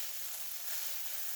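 Ground turkey seasoned with paprika sizzles steadily in a pan for stroganoff, a soft, even frying hiss with no talk.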